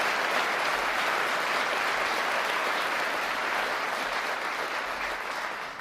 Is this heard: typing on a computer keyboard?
no